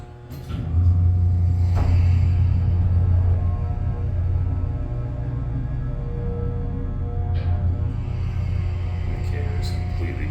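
A General Oiltronic hydraulic elevator hums steadily in a low drone as the cab travels, with a couple of faint clicks and thumps along the ride.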